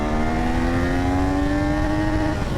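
A Triumph Daytona 660 motorcycle engine revs steadily while riding, its buzzing tone rising slowly in pitch over wind and road rumble, loud and continuous.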